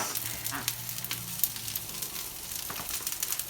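Mushroom and tofu stir-fry sizzling steadily in a hot pan as a seasoning mix is added, a close continuous crackle with small pops and no talk.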